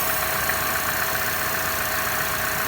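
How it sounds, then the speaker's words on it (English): A 2014 Chevy Cruze engine idles steadily with a constant hiss-like sucking sound from a faulty PCV valve over a low, even rumble, close up and unbroken throughout. "you hear that? This is the issue here. That little PCV valve is sucking."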